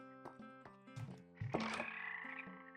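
Frogs in the Minecraft video game croak in soft, irregular low blips and throaty calls over a quiet background of steady tones.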